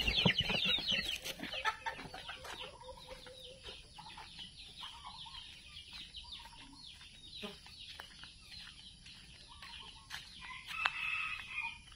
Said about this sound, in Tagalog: Doon sa ating native chicken